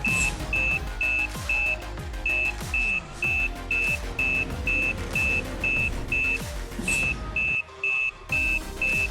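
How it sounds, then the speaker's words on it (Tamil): A reversing vehicle sounds its backup beeper in a steady, regular series of sharp beeps, roughly two per second, over a low engine rumble, with a brief gap near the end before the beeping resumes. "வண்டி ரிவர்ஸ் எடுத்து நிப்பாட்டிக்குவோம்"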